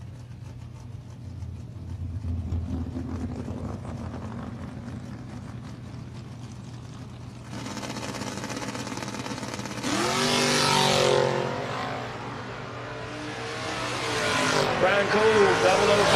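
Drag racing cars, a G-Body and a Mustang, rev and accelerate at a drag strip, the engine noise rising loudly in the second half while an announcer talks over the track sound.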